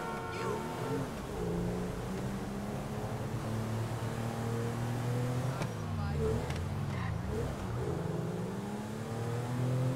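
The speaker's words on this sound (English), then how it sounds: "So we just drive out of the garage, round the block, up this road" A video game car engine drives out of an apartment garage, a steady hum with rising and falling revs throughout, and a voice talking over it.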